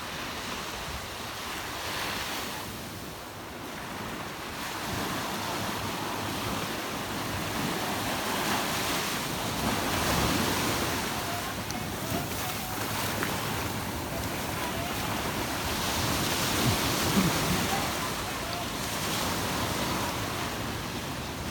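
Ocean waves break against rocks near Old San Juan, a steady broad wash of surf with slow swells rising and falling, mixed with some wind noise, continuous and fairly distant.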